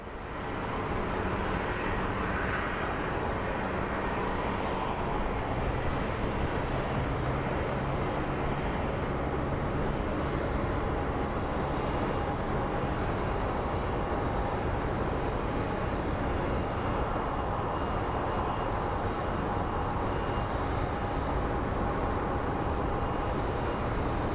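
An airliner taxis at Phoenix Sky Harbor airport, its engines giving a steady, continuous roar that stays loud and even for the whole stretch, with no voices.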